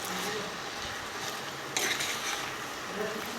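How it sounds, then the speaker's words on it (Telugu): Ridge gourd and moong dal curry stirred in a pot, giving a continuous close scraping and sloshing with a soft frying sizzle and a brief louder clatter midway. "ఇప్పుడు అంతా ఒకసారి మిక్స్ చేసుకోవాలి"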